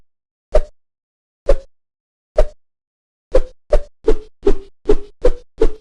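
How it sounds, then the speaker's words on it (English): Sword swing sound effect in a Godot game, played ten times with a small random pitch shift on each: short, dull, plop-like hits, three spaced about a second apart, then seven in quick succession, loud and isolated. "Every time the swing sound effect is played, I randomly shift the pitch of the sound effect just a little bit to create a slightly different"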